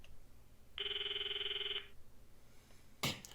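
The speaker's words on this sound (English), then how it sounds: "I stop the video and call Mayuri's phone from my address book" An outgoing phone call rings once as a steady electronic tone lasting about a second, followed by a pause and then a brief burst of noise.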